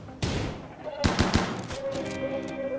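Gunfire in the colony-building video game RimWorld: a loud burst of rapid shots opens, followed by a few sharp single cracks, with other game sounds continuing afterward.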